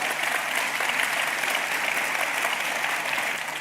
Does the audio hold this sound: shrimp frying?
no